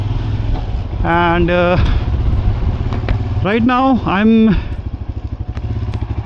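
Motorcycle engine droning steadily while riding, with a helmet-mounted camera picking up wind and engine rumble throughout, under someone talking close to the mic.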